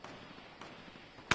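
Gunfire in an online building-and-shooting battle game: a few faint distant cracks, then one sharp, loud close shot right at the end.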